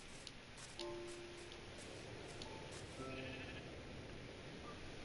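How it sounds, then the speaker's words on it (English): Faint Minecraft sheep bleats rise over a steady hiss of game ambience, a few short calls spaced apart with quiet ticking in the background. "Hello, sheep."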